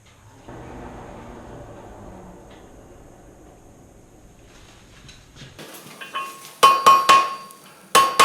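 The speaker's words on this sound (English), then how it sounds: "Now I start blending everything in on the horn of the anvil, and I'm still not hitting hard." A blacksmith hammer strikes hot forge-welded chain on the horn of an anvil: a handful of sharp, ringing metallic blows near the end, after a stretch of quieter low hum.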